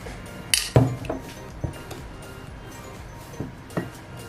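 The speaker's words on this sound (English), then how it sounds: "And now we need to stir it." Homemade carrot oil stirred in a cup with a utensil, giving a few close, sharp clinks and taps against the cup; one louder knock comes early, then quieter scattered clicks.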